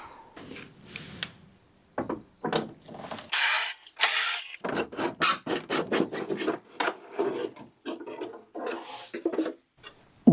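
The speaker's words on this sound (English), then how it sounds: "I think that if I remove those screws, I'll be able to pull out all those little cubbies" Screws are backed out of an old wooden bureau, close bursts of grinding, rasping turns with short pauses between, wood creaking and rubbing as a driver works each screw loose.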